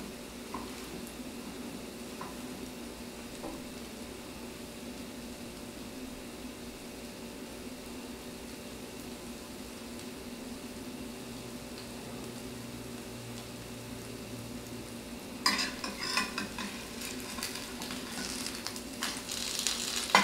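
Pancake batter cooks in a pan with a low, steady sizzle that carries throughout, growing louder and more crackly near the end; no one talks.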